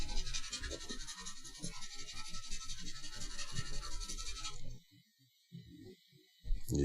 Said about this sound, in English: I will try to remove the scratch by just a little sandpaper.